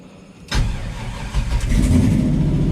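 A Chevrolet K10 squarebody truck engine cranks and catches abruptly, then settles into a loud, rough idle that swells slightly as it runs, close up with no talk.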